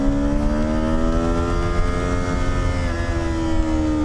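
A cheap hybrid gas/electric motorcycle engine running and shifting gears on its own, a steady close drone with pitch bands sweeping slowly down then leveling as it downshifts, with no talking.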